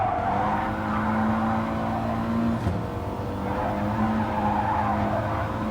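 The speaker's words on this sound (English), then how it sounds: "We're on board with Pellegrino here in the Audi TT Group 4." An Audi TT Group 4 rallycross car in a racing video game, its engine revving hard with a sustained, wavering whine, gear changes and tyre noise, with no talk over it.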